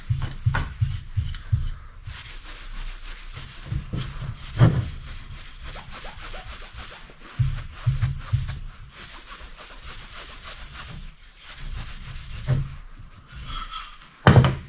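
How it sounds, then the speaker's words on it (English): A gray Scotch-Brite pad rubs back and forth along a fork tube from a 1983 Yamaha IT 175 motorcycle, giving short bursts of close, scratchy hand strokes separated by pauses. "I'm going to start polishing it this way."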